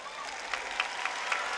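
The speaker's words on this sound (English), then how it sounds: "Please give them a round of applause." A graduation crowd at South Atlanta's 2014 ceremony gives a short burst of applause, soft and somewhat distant, with a few sharper individual claps standing out.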